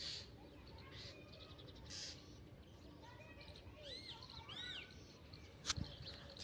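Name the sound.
bird calling on a farm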